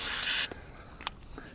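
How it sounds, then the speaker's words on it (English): Starter fluid sprays from a can into a lawnmower engine on a go-kart build, one loud steady hiss of about half a second, followed by a few faint clicks and small knocks. "I might need a little starter fluid. Just a bit."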